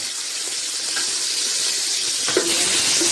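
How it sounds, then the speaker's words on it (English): Washed, chopped salted mutton frying in hot oil for Ghanaian oil rice (angwa mo): a steady, loud hissing sizzle with faint crackles and a soft clink near the end. "fry it so that I can get that sense and flavor from the mutton"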